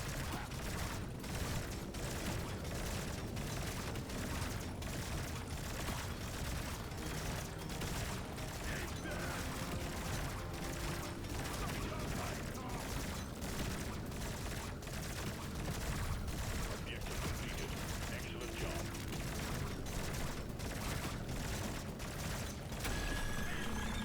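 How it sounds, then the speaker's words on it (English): Coilgun in Deep Rock Galactic: Survivor firing nonstop, a dense stream of rapid mechanical clicking and ratcheting bursts layered over busy game noise, loud and continuous throughout. "let the gun shoot behind us"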